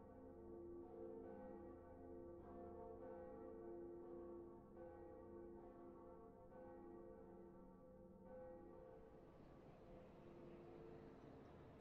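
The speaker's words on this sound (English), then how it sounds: "So, there was 2 Bells of Awakening rung, as was prophesied." A deep church-style bell tolls in the Dark Souls video game as the Bell of Awakening rings, its long resonant tones sustained and layered across the whole stretch, loud and close with no voices.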